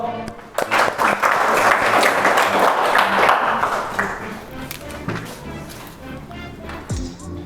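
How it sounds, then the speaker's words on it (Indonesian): A classroom of students claps together: a burst of dense, close applause swells quickly, holds for a few seconds, then thins and fades into scattered claps with voices murmuring near the end. "tepuk tangan dulu"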